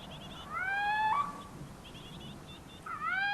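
Two rising, harmonic whistling calls from a little owl, separated by a pause, with softer repeated calls between them over a low background hum.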